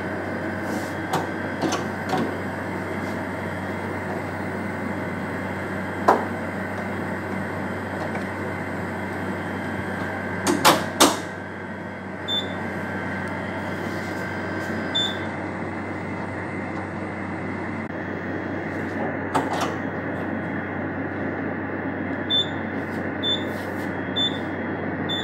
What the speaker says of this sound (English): I am going to centrifuge the culture at 4000 RPM for 10 minutes.